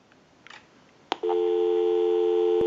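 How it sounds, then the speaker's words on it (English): A few faint clicks and a sharp tick, then a steady loud busy tone on a TP6A military rotary desk telephone that holds without break to the end. "We'll call my number and it'll be busy."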